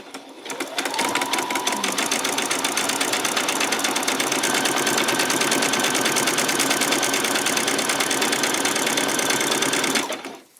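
A sewing machine runs a zigzag stitch on a peasant top in one continuous, loud, close burst of rapid needle hammering lasting about ten seconds before stopping.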